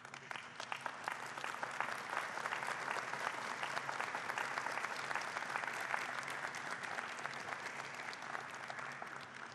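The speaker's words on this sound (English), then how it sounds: "give a round of applause to the people who made it possible for you to be here today" Graduating law students at a May 2016 Chase College of Law commencement give a sustained round of applause to their families, dense, steady clapping from a large crowd filling the hall throughout.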